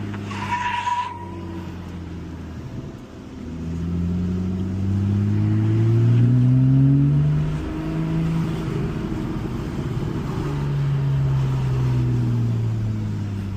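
A car in a video game drives and revs, its engine tone sweeping up and down through repeated gear changes, steady and fairly loud, with a brief high squeal at the start.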